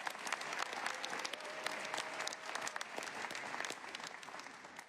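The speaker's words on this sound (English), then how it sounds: "let's give a big round of applause for our students who are standing behind us today." A crowd at a mayoral education announcement gives students standing nearby a dense, continuous round of applause, heard somewhat distantly and evenly sustained.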